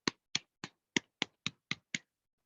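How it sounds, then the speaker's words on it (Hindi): Eight sharp, evenly spaced claps ring out in unison at a steady beat from an audience at a DXN business meeting, cheering on their guru Dr. Arjun, then stop abruptly. "हमारे ग्रेट गुरु डॉक्टर अर्जुन सर के लिए जोरदार ताली हो जाए"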